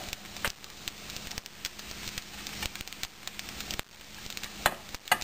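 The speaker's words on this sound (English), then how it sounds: "So there go my cloves of garlic and my red onions." Red onions and garlic cloves sizzle in a hot pan, a soft steady crackle with scattered pops and a few sharper clicks, close and fairly quiet with no talking.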